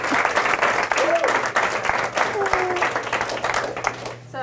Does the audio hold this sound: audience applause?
yes